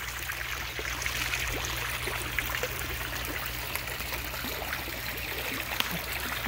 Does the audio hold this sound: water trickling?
yes